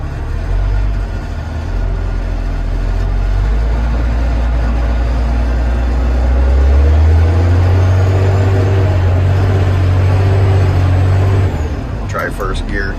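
A tractor engine rumbles steadily and loud at close range in first gear while scalping farm ground, the low drone swelling and deepening midway as it takes up load, with a sharp clatter near the end.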